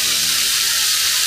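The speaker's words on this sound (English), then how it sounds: "See that sizzling? That's good." Vegetables hit smoking-hot oil for a Chinese stir-fry, giving a steady, loud, close sizzle with a bright frying hiss throughout and no talk.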